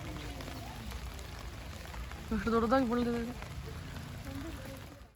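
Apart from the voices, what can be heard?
heavy rain falling in botanical garden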